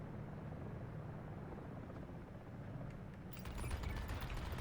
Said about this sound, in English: in this game, there are multiple types of Comanche helicopters.